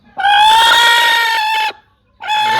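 Native country chickens roosting at night let out two long, loud, nasal calls close by, the first drawn out and the second starting after a brief silence.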